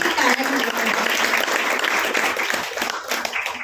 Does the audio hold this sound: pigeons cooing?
no